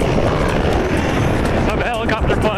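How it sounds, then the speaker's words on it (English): A helicopter flies ahead filming a desert footrace, a loud continuous rotor and engine roar close by with a voice talking over it. "I have a helicopter flying ahead filming it."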